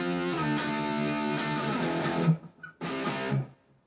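Electric guitar plays section 1C of a song, a run of ringing, strummed distorted chords with a brief gap before a final chord that fades out.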